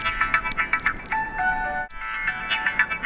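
Micromax Pike X510 phone playing its power-on tone, a short melodic chime with a few bright notes, fairly close and clear, briefly pausing midway before the tones continue.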